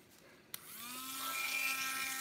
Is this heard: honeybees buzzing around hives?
no